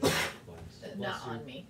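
A single sneeze bursts out at the start in a kitchen while cookies are being made in a mug, followed by a short spoken reply.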